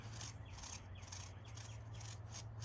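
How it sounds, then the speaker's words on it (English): Stiff deck brush scrubbing the sides of a pool, a steady rough rubbing that repeats in short back-and-forth strokes over a constant low hum, close and alone. "Gonna scrub the sides of the pool all the way around."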